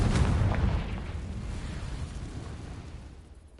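A Confringo blasting spell detonates in Hogwarts Legacy with a heavy boom that rumbles and slowly fades over a few seconds in a cave maze.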